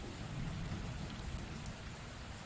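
Steady rain falls throughout, a dense, even wash of drops on a surface with no pauses and no voices.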